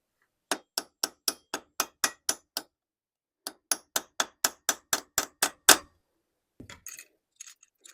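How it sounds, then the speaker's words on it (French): Sharp metallic hammer blows on a reinforced motorcycle clutch hub collar, Honda XLR125R, in two quick rhythmic runs of about ten strikes each, loud and close, separated by a pause, then softer rattling. "C'est ici qu'il faut donner le coup de marteau dans la collerette."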